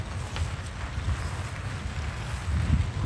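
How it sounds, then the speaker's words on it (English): Outdoors on a wet, cold day, wind buffets the microphone with a low, continuous rumble and gusty swells, rain adding a soft hiss, with no voices. "it is wet and it is cold and it is windy"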